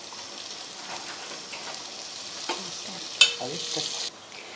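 Onion, garlic and curry leaves sizzle softly in a pan while being stirred, with scraping strokes and a sharp clink near the end before the sizzle drops away.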